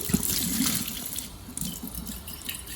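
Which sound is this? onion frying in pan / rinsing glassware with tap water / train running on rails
rinsing glassware with tap water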